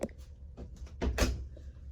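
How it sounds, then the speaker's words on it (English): A pocket door slides in the living quarters of a 2020 Lakota three-horse trailer, giving several soft knocks and rolling scrapes over about two seconds, quiet and close in a small interior. "Pocket door."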